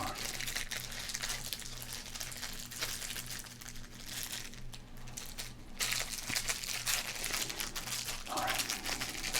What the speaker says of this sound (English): We've done the crinkling. It's time to rip.